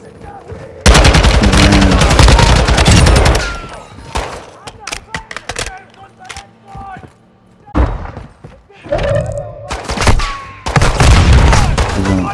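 Heavy gunfire in Call of Duty DMZ: loud, close bursts of automatic fire and thudding impacts come in several clusters with short gaps between them, while voices talk over parts of the exchange.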